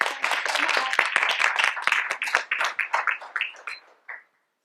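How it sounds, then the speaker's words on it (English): A small conference audience claps at a medical session, moderately close with distinct individual claps, thinning out and stopping with a last few claps before silence. "Let's give them a round of applause."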